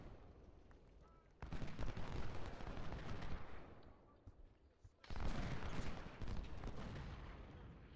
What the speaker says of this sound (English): And now it appears to just be an artillery duel.